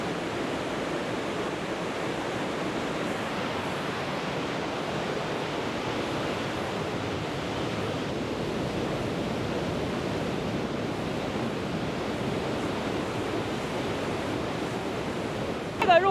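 Waterfall at a waterfall park in Kunming, Yunnan, a steady broad rushing roar of falling water heard from a distance, constant and even throughout, with no voices over it.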